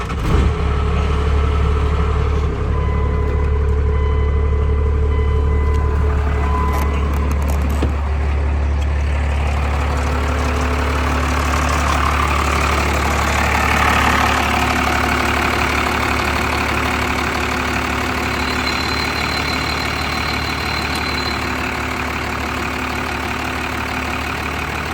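A truck engine idles steadily and loudly up close with a deep rumble, while the AC compressor cycles on and off, shifting the tones partway through; no one speaks.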